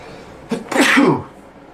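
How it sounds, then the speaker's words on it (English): One sharp, explosive sneeze bursts out close to the microphone after a short intake of breath, standing alone against quiet room tone. "I gotta sneeze"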